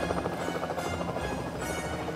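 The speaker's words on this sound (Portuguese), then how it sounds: "Ah, adoro ser um helicóptero." A cartoon helicopter flies in an animated children's show, a continuous rhythmic rotor chop with engine whine, moderately loud and steady with no talk.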